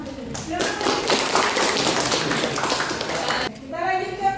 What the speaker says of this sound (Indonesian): Untuk kelompok 1 kita beri tepuk tangan untuk beliau.